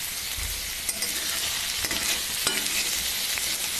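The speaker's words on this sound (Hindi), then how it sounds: "यहाँ मैं प्याज और मिर्च डाल रही हूँ और हल्का भूनूंगी" Onions and chilies frying in a pan for egg bhurji, a continuous bright sizzle with scattered stirring scrapes and taps, close and without talk.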